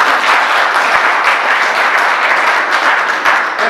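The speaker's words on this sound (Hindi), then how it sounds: "पीछे से कोई भाषण मार दे जोरदार ताली लगा उसको" Loud, continuous applause from an audience at a humorous traffic-safety talk, a thick, even roar of clapping close up with no voices.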